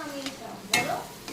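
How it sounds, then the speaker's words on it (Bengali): Chopped tomato goes into hot oil in a pan for a Bengali rui fish mustard-poppy seed dish, giving a brief burst of sizzle followed by stirring scrapes and soft frying crackle, close and moderately quiet. "এখন এরপরে আমি দিয়ে দেবো কিছু একদম ছোটো ছোটো কেটেছি কাটা টমেটো কুচি"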